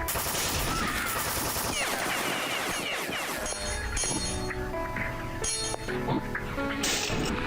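Sniper rifle shots ring out in The Citadel video game, a few sharp reports amid dense, busy game noise with clinking and tonal effects.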